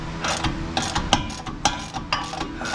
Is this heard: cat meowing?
no